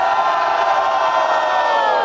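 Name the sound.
crowd cheering at a rap battle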